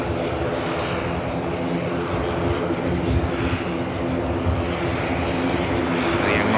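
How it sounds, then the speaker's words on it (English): Emerald Air ATR turboprop airliner taxiing at Manchester Airport, a steady droning engine roar with a low propeller hum that holds close and constant throughout. "The Emerald Air ATR is about to come around the corner, you can probably hear."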